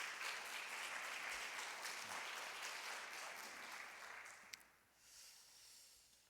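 A church congregation applauds the choir in sustained, fairly loud clapping for about four seconds, which then fades out.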